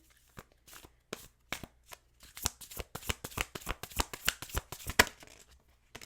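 A deck of tarot cards is riffled and shuffled close up, sparse flicks at first building into a dense, rapid run of crisp papery riffles.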